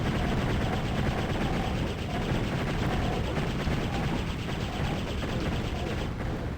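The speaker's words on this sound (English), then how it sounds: "I don't think the flamethrower from the Phoenix Rod is that effective compared to other weapons" Heretic's Phoenix Rod flamethrower spews a steady, roaring, crackling rush of flame that runs unbroken at a constant loudness from start to finish, dense and close with no pauses.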